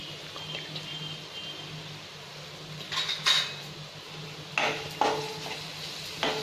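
Coriander powder being stirred into a mushroom fry in a pan, with soft scraping and a few louder clinks of a spoon against the pan over a quiet background hiss.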